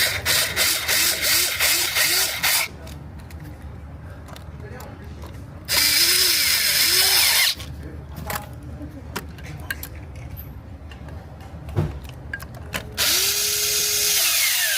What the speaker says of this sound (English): Start these screws, tighten this thing up